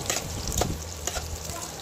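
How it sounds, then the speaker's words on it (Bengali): Chopped onion and garlic frying in a pan for an onion chicken curry, a brief steady sizzle and hiss with a light stir. "এবার কেটে রাখা পেঁয়াজ কুচিগুলো আর সাথে রসুনগুলো একটু ভালোভাবে ভেজে নেব।"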